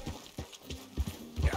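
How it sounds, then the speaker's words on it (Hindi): Horse hooves clip-clop in Red Dead Redemption 2 gameplay, a few uneven thuds spread across a short stretch, moderately close and fairly quiet, with no talking over them. "निकलते हैं अब हम यहाँ से अपने घोड़े को लेकर।"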